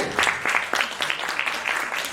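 An audience claps together during a flower presentation at a plaque and flower ceremony, producing brief, dense applause at a steady, moderate volume.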